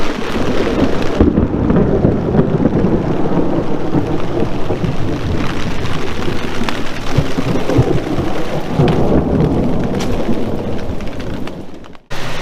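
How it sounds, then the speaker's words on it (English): Heavy thunderstorm with steady pouring rain close by, thunder rumbling underneath the dense downpour, loud and continuous until a sudden dropout at the very end. "I had to get up here out of the rain"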